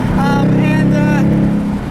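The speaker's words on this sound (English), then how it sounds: "This one has the active exhaust, as you can probably hear." A 2018 Roush JackHammer Mustang GT with active exhaust, stock 460 horsepower, rumbles with a deep steady V8 drone and a brief rising rev, close and loud throughout.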